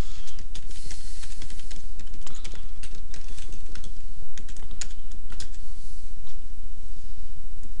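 Steady, rapid keystrokes on a computer keyboard as a backup job name is typed, close and continuous with a faint background hiss and no talking.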